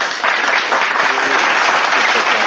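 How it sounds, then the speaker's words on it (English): A live studio audience gives a brief, dense burst of clapping that holds steady and loud from start to finish. "Live studio audience, give you some round of applause."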